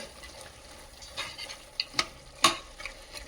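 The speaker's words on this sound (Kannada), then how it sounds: "ನೋಡಿ ವೀಕ್ಷಕರೇ, ಎಣ್ಣೆಯಲ್ಲಿ ಮಟನ್ ಬೆಂದಿದೆ." Mutton frying in oil for a biryani gives a soft, steady sizzle, broken by a few sharp scrapes and clinks of a spoon stirring the pot, the loudest clink near the end.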